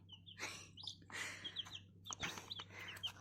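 Four-day-old chicken chicks kept warm under a heat lamp cheep and peep in quick high bursts, a busy close chorus of short chirps over a low steady hum, with no talking.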